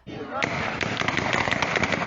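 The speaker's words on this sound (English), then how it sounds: "sounds of gunfire in a small town in northeastern Ukraine as unarmed protesters stood their ground" Rapid bursts of gunfire crack repeatedly through a small town in northeastern Ukraine during a protest by unarmed demonstrators, close and sharp over a constant background din of crowd noise and commotion.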